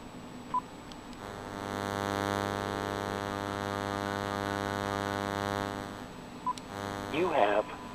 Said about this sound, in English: Now I'm going to dial in from the magicJack phone